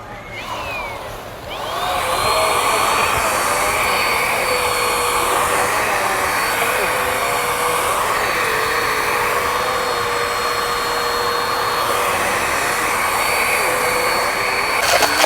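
A vacuum cleaner runs outdoors over grass, its loud steady whine rising to full speed after a brief lower start and then droning on close and unbroken with slight shifts in pitch.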